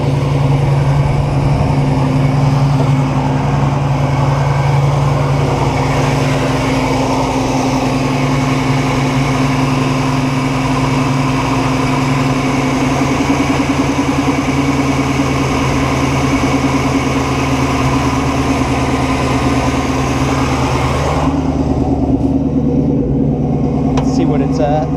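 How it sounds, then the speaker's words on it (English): Engine of a 1969 Buick Special Deluxe idling steadily, loud and close with a constant low rumble throughout, dropping off abruptly near the end; no talk over it. "So let's turn down the idle a little bit."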